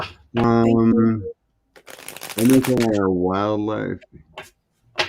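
A deck of tarot cards is shuffled in a short, crisp burst of riffling between stretches of conversation, with people talking before and after.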